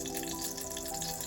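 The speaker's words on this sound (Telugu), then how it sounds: "కొన్ని జీలకర్ర ఆవాలు వేస్తున్నాను." Cumin and mustard seeds tempering in a spoonful of hot oil in a pan, a steady close hiss with faint crackle throughout.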